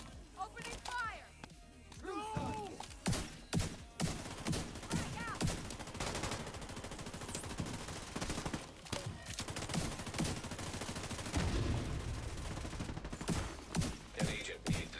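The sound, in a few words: gunfire in a video game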